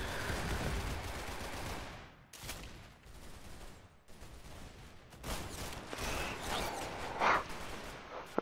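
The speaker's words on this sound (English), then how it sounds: "Drum gun! Drum gun!" Rapid bursts of automatic drum gun fire in a video game, loud and sustained in dense volleys with brief pauses, ending in a sharp crack.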